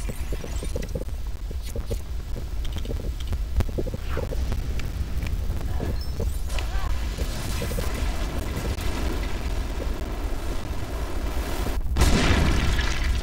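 A rocket blast in The LEGO Movie Videogame, heard as a deep rumbling boom under continuous low game noise, swelling louder near the end.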